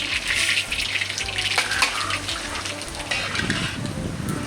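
Mustard seeds with chana dal and urad dal sizzle and pop in hot oil in a pan while tempering for Jaffna-style curd rice, a dense, steady crackling frying noise with occasional stirring scrapes, close and continuous with no speech.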